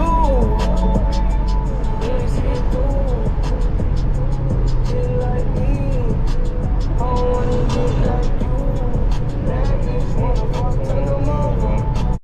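A catted Lexus RC F driving on the road toward a car wash, its engine note a steady, loud drone throughout with tonal whine and shifting pitch, plus some talk-like tonal content mixed in.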